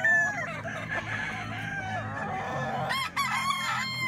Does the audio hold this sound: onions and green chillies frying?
no